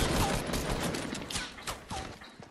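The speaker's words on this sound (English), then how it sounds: "Yeah, they're shooting you." Video game gunfire in a team RPG shooter, a dense crackling volley of shots filling the whole moment at close, steady loudness with a few sharper bursts standing out.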